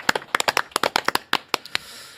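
A small studio audience on a Korean economics talk show claps to welcome a guest: a short burst of sharp, separate hand claps, close and fairly loud, quickly thinning out to a few last claps.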